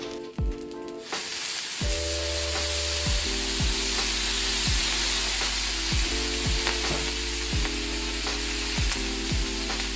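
Eggs sizzle on a 36-inch Blackstone griddle, a steady close frying hiss with a low hum and a few clicks, loud and unbroken by talk.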